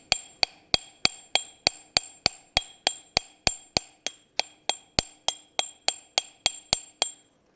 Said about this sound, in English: I'm going to use a light little cross peen hammer